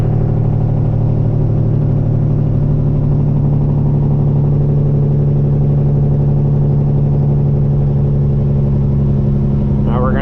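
Custom Peterbilt truck with straight pipes and an 18-speed transmission, settling into a deep, steady droning rumble after a downshift, loud and close throughout with a brief higher sweep at the very end.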